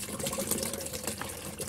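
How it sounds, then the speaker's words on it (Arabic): A litre of milk poured into a container of water to make a natural treatment for powdery mildew on plants, a steady, even liquid pour that runs without a break for the whole moment. "إذن نأخذ لتر من الحليب ونصبه"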